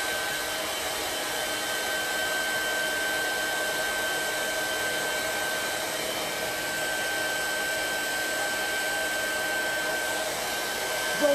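Hair dryer blowing steadily to dry paint on a 3D art piece, a constant close whooshing hum with a thin whine, running unbroken without talk.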